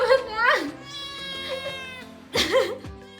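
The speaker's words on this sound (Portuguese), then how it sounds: "seus pequenos miaus foram suficientes para dizer ao dono que ele estava com problemas" A grumpy kitten with its claws stuck in curtains lets out two loud, wavering meows, one at the start and one near the end, close to the listener, with a soft background tone between them.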